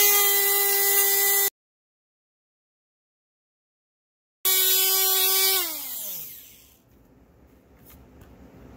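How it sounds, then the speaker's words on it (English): A rotary tool with a cutting wheel grinds through guitar case plastic in a loud, steady high whine that cuts out, resumes, then winds down in pitch as the wheel slows, leaving a faint hum. "I am going to grab a cutting wheel and we are going to cut this"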